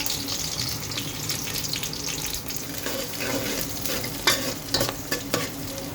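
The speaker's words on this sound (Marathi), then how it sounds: "आपलं तेल गरम झालं आहे. तिथे आपण हा जो कांदा आणि कढीपत्ता आहे तो त्या फोडणीला देणार आहोत." Onion and curry leaves frying in hot oil for tempering, a dense steady sizzle with stirring strokes and a few louder scrapes toward the end, close and without talk.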